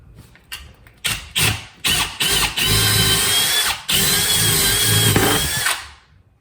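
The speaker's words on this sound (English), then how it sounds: "So you drill 1/4 inch." A power drill bores 1/4 inch holes during a room renovation, opening with several short separate bursts and then running in long sustained whirs, loud and close, ending abruptly.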